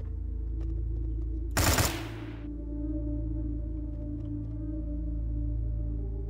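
Enemy gunfire in Fallout Equestria, a single sharp burst of shots cutting over a steady low machine hum in an industrial factory level.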